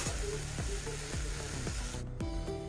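Potatoes and okra fry in a wok with a steady sizzle, and a utensil scrapes and stirs the pan in regular strokes about twice a second, close by and without talk.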